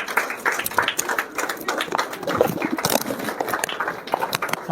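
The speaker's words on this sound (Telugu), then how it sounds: "చప్పట్లు సరిపోతలే" An audience claps together at a meeting, a steady patter of many hands at moderate loudness that continues for several seconds.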